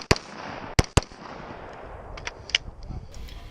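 Sharp gunshots on a multigun competition stage as a shooter engages stormtrooper targets after exiting an X-Wing prop: two close, loud cracks near the start, a third nearby, then fainter scattered pops over steady background noise.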